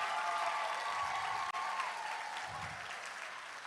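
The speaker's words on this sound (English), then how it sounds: "Can we give all of our awardees a round of applause at this time?" An audience claps steadily for award recipients at a live-streamed event, a sustained, fairly even round of applause heard at moderate distance with no talking over it.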